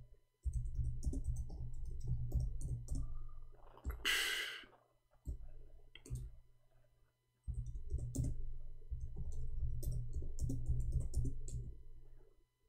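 Quiet, close typing on a computer keyboard comes in bursts of rapid key clicks, broken by a short breath or sigh and brief pauses.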